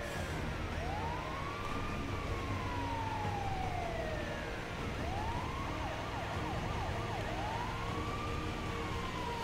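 Wailing emergency vehicle siren in the GTA V video game, heard while driving; the tone rises and falls in repeated sweeps over a steady engine and road background.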